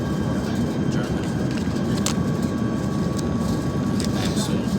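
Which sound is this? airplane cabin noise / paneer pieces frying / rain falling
airplane cabin noise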